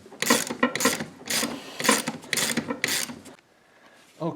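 Ratcheting clicks and scraping from a 13 mm stubby wrench working a tight, never-before-removed bolt on a Chevrolet Colorado's windshield wiper assembly, in several rhythmic bursts, close and fairly loud, then a short pause.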